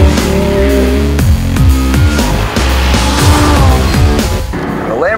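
A Lamborghini Gallardo LP550-2 V10 is driven hard around a racetrack. The engine note stays loud and continuous, its pitch climbing and falling in steps as it revs through the gears.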